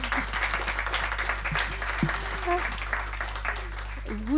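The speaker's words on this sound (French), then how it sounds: "On peut les applaudir." An audience at a webinar event claps steadily throughout, a dense patter of applause with voices murmuring underneath.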